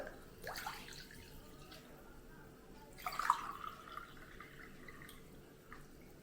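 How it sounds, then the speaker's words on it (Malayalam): Two glasses of water pour into a container for a spirulina drink, heard as two faint, short splashing gushes against a quiet background. "ഇനി നമുക്ക് ഇതിനകത്തേക്ക് ഒരു 2 ഗ്ലാസ് വെള്ളം ഒഴിച്ചു കൊടുക്കാം"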